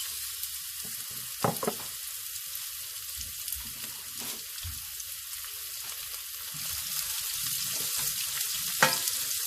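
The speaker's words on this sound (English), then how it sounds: "Onions have been frying" Steady close-up sizzle of chopped onions frying in a pan after cumin, with a few sharper crackles and pops over the continuous hiss.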